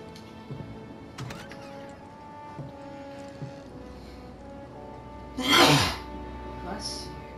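A person sneezes once, a short sharp burst standing out over quiet video game music and soft background sounds, with a fainter second blip just after.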